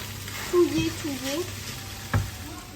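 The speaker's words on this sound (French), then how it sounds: "Et puis on va venir touiller." Mushrooms sizzle steadily in a frying pan for pasta alla norcina while a utensil stirs them, with a couple of sharper scraping knocks against the pan over the continuous frying hiss.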